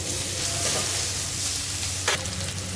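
Garlic sizzles steadily in hot oil in a pan while cooking sweet and sour fish, a continuous close frying hiss with a brief stirring clatter near the end.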